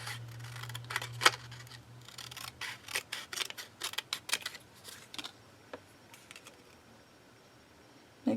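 Scissors trim a paper card into a thin banner, a close series of crisp snipping cuts in irregular bursts, quieter with soft paper rustle toward the end.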